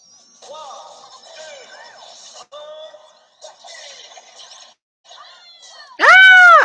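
Zelda's shrill, loud scream in a Super Smash Bros.-style fighting game erupts at the end, after a stretch of chirpy game sound effects and character voice clips.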